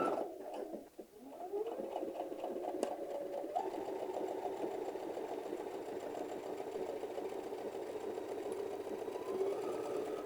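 A sewing machine stitching a quilt block hums steadily and fairly quietly, a continuous whirring run after a brief start, going on without pause to the end.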